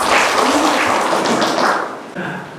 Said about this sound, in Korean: 다시 한번 축하드리며 박수 모시겠습니다.